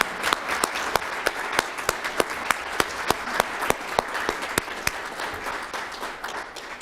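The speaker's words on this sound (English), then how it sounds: "I'd like to give everyone that works for us a round of applause" At a city council inauguration, the audience gives a round of applause for city employees, a dense, steady patter of many hands with crisp individual claps standing out, gradually thinning toward the end.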